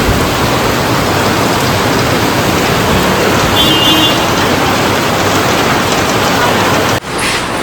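Heavy monsoon rain pours down steadily near a creek, a dense, loud hiss that fills the whole clip without a break until it cuts off abruptly near the end.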